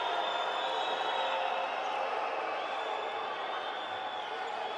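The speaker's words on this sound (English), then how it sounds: "Hear the crowd with the whistles" Basketball arena crowd at a Champions League Americas game between Sesi Franca and Instituto, with a steady wash of crowd noise and sustained high whistling from the stands, fairly loud throughout.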